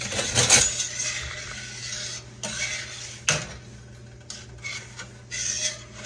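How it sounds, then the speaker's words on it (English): A spoon stirs tomato soup in a pot on a stove, and the metal scrapes and clinks against the pot in short, irregular bursts. Between strokes there is a soft, quiet background hum. The stirring is close and fairly faint. "I'm going to stand here and stir it a minute till it gets good hot."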